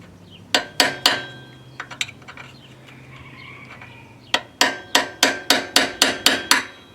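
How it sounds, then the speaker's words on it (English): Sharp metal-on-metal hammer strikes on a punch and chisel against a seized alternator bolt on a 2013 GMC Sierra, three quick blows, a pause with lighter taps, then a rapid run of about eight ringing hits, close and loud. "take our little trusty punch and chisel and see if we can't"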